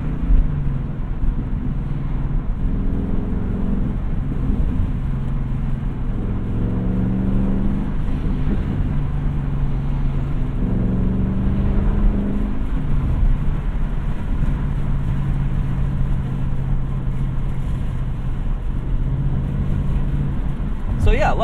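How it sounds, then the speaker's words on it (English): 2020 Ford Mustang Bullitt engine heard from inside the cabin, a steady low rumble with repeated rising and falling pitch sweeps as the car downshifts with automatic rev matching, continuous and fairly loud throughout. "Downshifts. Auto rev match is a lot of fun."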